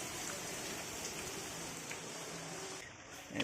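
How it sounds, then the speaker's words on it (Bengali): Steady rain pours down continuously, a dense hiss of drops falling on surfaces, loud and close throughout with no voices. "তিন দিন ধরে এরকম বৃষ্টি হয়ে যাচ্ছে"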